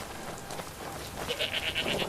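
A goat in the video game Skyrim bleats in a quick series of short nasal cries near a farm, rising toward the end over soft ambient game background.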